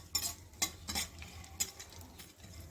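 Chopped cashews stirred in a frying pan, a spoon scraping and clinking in a few distinct strokes over a soft sizzle, close and fairly quiet with no talking.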